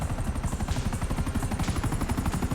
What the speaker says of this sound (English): Lose the enemy chopper.